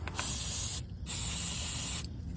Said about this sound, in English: Then I'll just take a little brake clean,